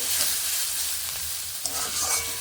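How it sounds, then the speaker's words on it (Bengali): Food sizzles and crackles in a hot pan, a steady close frying hiss with occasional light stirring scrapes. "এইভাবে ভেজে নিচ্ছি"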